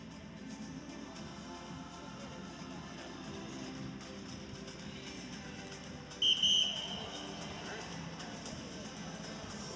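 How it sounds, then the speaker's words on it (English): A referee's whistle marks the end of a women's short track speed skating B final at a US championship, one brief sharp blast near the middle over steady arena crowd noise and commentary. "Whistle is blown."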